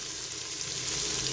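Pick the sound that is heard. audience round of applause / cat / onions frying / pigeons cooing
onions frying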